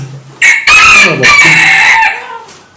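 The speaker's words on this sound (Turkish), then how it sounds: "Evet siyah horozumuz." A black rooster crows loudly and close by, one long harsh cock-a-doodle-doo with a strained, rising and falling call that trails off at the end.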